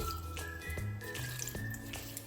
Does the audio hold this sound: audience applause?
no